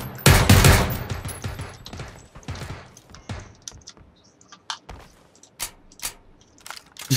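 Bursts of automatic gunfire from the battle-royale video game PlayerUnknown's Battlegrounds, with a loud volley at the start followed by scattered sharp shots and clicks, no talking.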